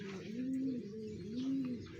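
A pigeon coos close by in two soft, rolling phrases with a short pause between them, clear and unaccompanied by any talk.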